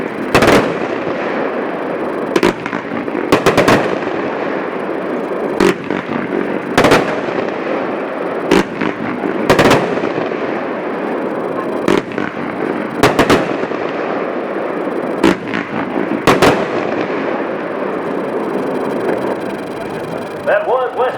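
A Schneitter Western Sky fireworks cake fires a rapid string of loud, sharp bursts in irregular clusters, each crack followed by crackle and rumble over a steady engine-like drone.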